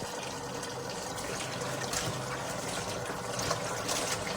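Pechay is washed under running tap water in a kitchen, with a steady, close rush of water splashing continuously throughout.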